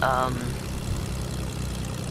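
A propeller airplane engine in Fortnite drones steadily and loudly at close range, a continuous low hum that holds its pitch with no talking over it.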